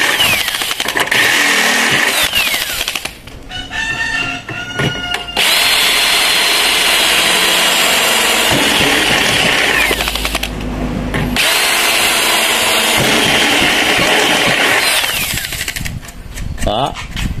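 A power drill bores a roughly 10 mm hole to widen a 9 mm screw hole in Xingfa aluminum window framing, running loud and steady through most of the stretch with short pauses; a person speaks over part of it.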